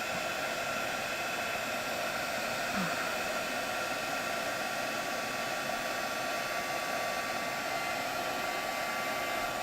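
A heat tool blows steadily for nearly ten seconds to melt embossing powder for a craft project, a constant loud whooshing hiss with no talk.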